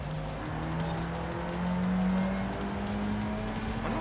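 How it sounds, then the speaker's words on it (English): A car engine drones steadily in Forza Horizon 5, holding a sustained tone that rises and shifts as the revs change, with a tire squeal edging in. It stays fairly quiet and close, with no talking. "I wonder what kind of engine this thing has in it. It sounds like it could be like probably a V6 turbo"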